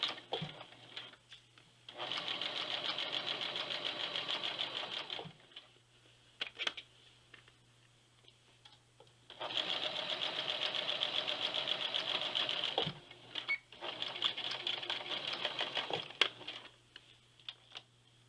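A sewing machine stitches a new seam on a winter coat being taken in, running in three sustained whirring bursts of a few seconds each, separated by quiet pauses with light handling clicks of the fabric, fairly faint and close.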